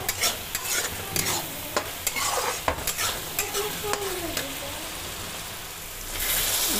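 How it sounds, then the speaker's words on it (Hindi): Garlic ginger paste fries in a pan, a steady close sizzle broken by repeated scraping stirs of a utensil against the pan. "इसमें डालूंगी मैं लहसुन अदरक का पेस्ट, थोड़ा सा भून जाए"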